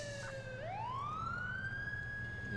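An ambulance siren in the video game GTA IV wails steadily, its pitch sweeping down and then climbing back up into a sustained loud tone, close and alone with no talk.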